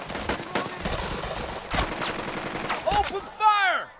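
A squad opening fire in the WWII tactics game Burden of Command: a run of close, punchy gunshots and rattling bursts, ending in a shout and fading whistling effects, with someone talking over the battle.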